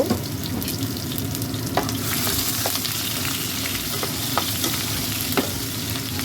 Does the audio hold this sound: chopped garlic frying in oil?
yes